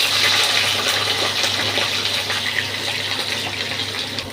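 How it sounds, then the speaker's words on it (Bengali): Two large potatoes fry in hot oil in a pan, with a steady, loud, close sizzling hiss that slowly eases over a few seconds. "আমি দুটো বড় আলু ভাজতে দিচ্ছি।"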